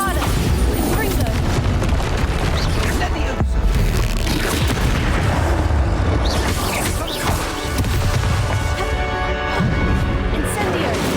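Bombarda blasting spell from Hogwarts Legacy going off in a dense, continuous barrage of loud booming explosions and crashes, with battle shouts and voices mixed through the din.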